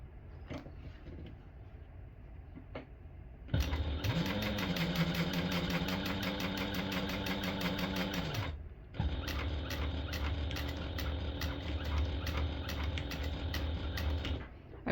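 A domestic sewing machine stitches a small vinyl tote bag, running in two long, steady, loud mechanical bursts with a short pause between, close and with no voices over it.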